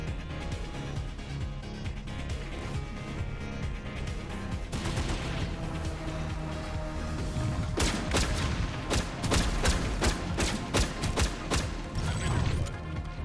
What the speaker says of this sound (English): They weren't expecting the cover fire.